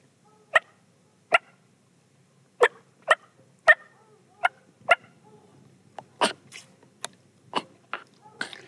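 A turkey mouth call makes a series of short, sharp clucks spaced apart, then quicker softer purring notes toward the end, close and clear in a quiet room, imitating a turkey's cluck and purr.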